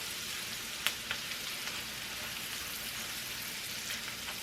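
A pan sizzles steadily as burger steak ingredients are sautéed, a dense hissing crackle throughout with a couple of light utensil taps near the start.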